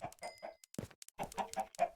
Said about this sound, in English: I still hear a lot of clucking.